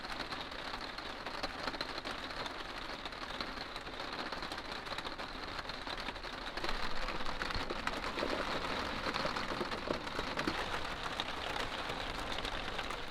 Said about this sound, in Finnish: minä tykkään niin paljon kuunnella just sateen ropinaa tonne kattoon